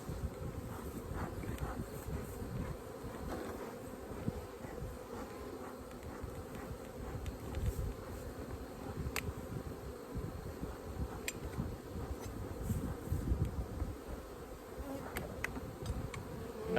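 Honey bees swarm thickly over a brood frame lifted from a homestead hive, a dense, continuous, close droning buzz with occasional individual bees zipping past, and no talking.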